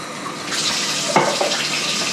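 A cup of room-temperature water poured out for Chicago-style deep-dish pizza dough, a short close splashing pour with a brief gurgling burst midway, heard alone.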